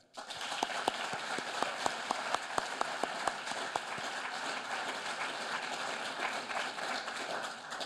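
Audience applause at an award ceremony honoring Jewish leaders, a dense, steady wash of clapping with sharp individual claps standing out near the start, sustained at moderate level throughout.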